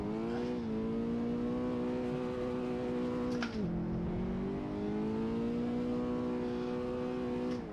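A car engine revs loud and sustained in a racing video game during a snowy lap of the Nurburgring, its pitch holding, dipping at a gear change, then climbing again.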